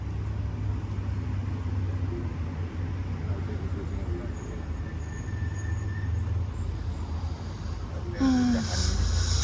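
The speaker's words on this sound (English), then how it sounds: "now we're at a taxi, just trying to go somewhere" Taxi ride through Tokyo heard from inside the cab, with a steady low engine and road rumble throughout, a brief squeaky rise near the end, and occasional voices.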